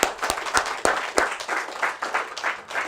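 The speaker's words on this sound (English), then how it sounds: "big round of applause for this space" Applause from a poetry-reading audience, a modest crowd clapping in uneven bursts with a few sharp individual claps early, moderately loud and close.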